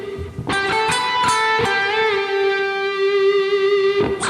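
A guitar plays a harmony line a third from a melody on two strings, a few plucked notes ringing into one long sustained tone, close and clear with no talking.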